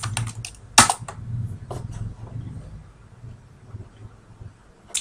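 Typing on a computer keyboard, a short burst of quick, close clicks and key taps with one louder keystroke, then trailing off into quiet room noise.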